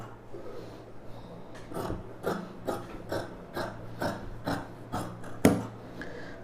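Scissors cut through cotton fabric along a marked U-neck top shape, making a series of soft, rhythmic rasping snips close by, roughly one every half second.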